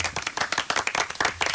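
An audience claps for Jack on a radio show, a brisk burst of several hands clapping in quick irregular rhythm, close and clear for under two seconds.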